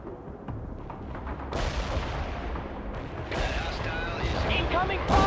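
Battle gunfire in the real-time strategy game World in Conflict, with distant rattling shots and booms building in intensity under radio-style voice chatter and unit callouts.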